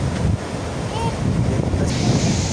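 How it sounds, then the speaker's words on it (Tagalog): Ocean waves and surf roll in at Baler beach, a dense steady wash with heavy wind rumble across the microphone and a faint voice briefly audible underneath. "Ganda ng alon."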